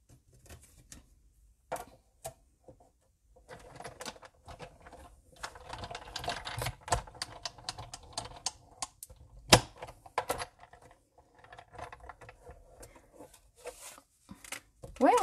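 Paper being cut into a small shape for a Stampin' Up mini photo pouch, heard as a sequence of close crisp snips and clicks, sometimes in quick runs, over low background noise.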